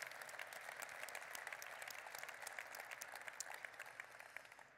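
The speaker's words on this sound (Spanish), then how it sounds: "el primer aplauso es para todos ustedes" Faint, distant audience applause at the opening of an industry meeting, an even stream of many hands clapping that continues steadily and fades a little at the end.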